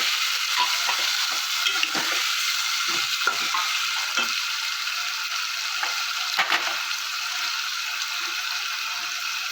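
Two medium tomatoes drop into a hot pan of Bihari egg curry base, setting off a steady close sizzle and fry with scattered stirring clicks and scrapes throughout.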